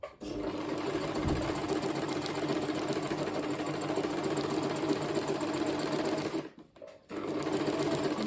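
A sewing machine runs a steady straight stitch along ruffle fabric, giving a continuous close mechanical whir with a rapid needle rhythm. It pauses briefly near the end, then starts again.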